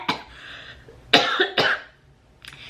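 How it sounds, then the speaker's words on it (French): A person coughs sharply a few times at close range, in quick irregular bursts with short pauses between them, and no other sound around them. "J'ai toussé"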